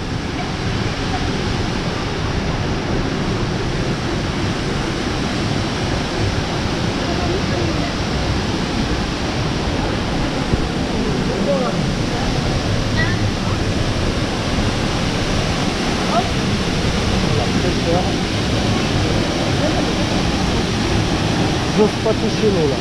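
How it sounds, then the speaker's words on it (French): A waterfall in Morocco, a steady, loud broadband roar of falling water heard up close, unbroken for over twenty seconds with no audible talk over it. "On a trouvé les cascades."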